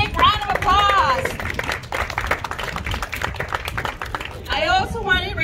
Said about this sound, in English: If you guys give them a big round of applause